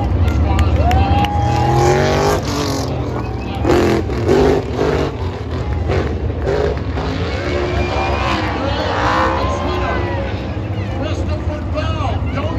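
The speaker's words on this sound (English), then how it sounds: "As Bell brings the car down the front straightaway, he's burning the hides right off that thing" A NASCAR race car does celebratory donuts and a burnout on a Charlotte speedway, its engine roaring and revving in loud surges under a race commentator's voice and crowd noise.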